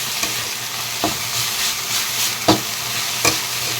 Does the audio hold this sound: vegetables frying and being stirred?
yes